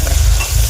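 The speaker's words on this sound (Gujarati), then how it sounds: "ચાલો હવે છે ને આપણે એમાં લીમડો એડ કરી દઈએ." Curry leaves hit hot oil for a tempering, giving a brief, loud, close burst of crackling sizzle with stirring and no talk.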